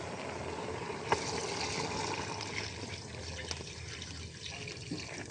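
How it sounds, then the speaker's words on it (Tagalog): Coconut milk pours steadily into a pot of simmering vegetables for a jackfruit stew, a continuous liquid rush with faint splashy detail and one small clink near the start, no talking. "Lagyan natin ng gata."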